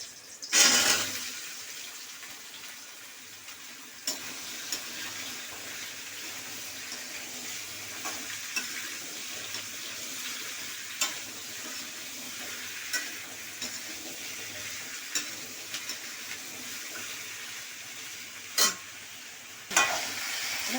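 Sliced potatoes sizzling gently in a pan for a Bengali potato curry, a steady soft hiss with a few clinks and stirring knocks, no talking.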